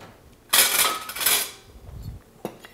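A metal whisk scrapes and clatters against a pan while whipping butter into a sauce, two close bright bursts of rapid tapping followed by a faint knock.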